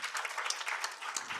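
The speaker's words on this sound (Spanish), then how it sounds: "Un aplauso." Audience applause at a recycling panel discussion, a fairly soft but continuous patter of many hands clapping throughout, with no voices over it.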